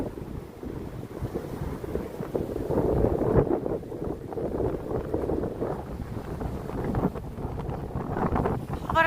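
Strong winter night wind on Bay Street in Toronto blasts across the microphone in a steady, heavy rumble with surging gusts, while a voice speaks faintly beneath it.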